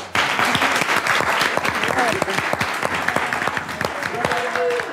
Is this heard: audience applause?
yes